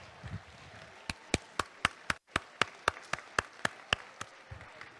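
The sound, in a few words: audience applause for three-sport athletes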